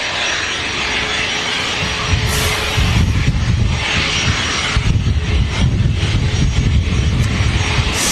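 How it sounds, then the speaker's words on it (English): An Embraer Legacy 500 business jet taxis at Manchester Airport, a steady engine whine with low rumbling swells as it passes, with gusty wind buffeting the microphone. "Embraer Legacy 500, just taxiing past here."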